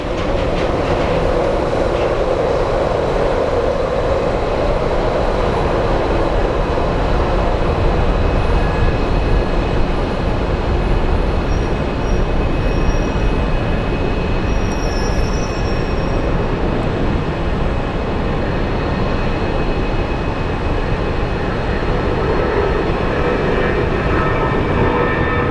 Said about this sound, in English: We have a Delta airline that just powered on.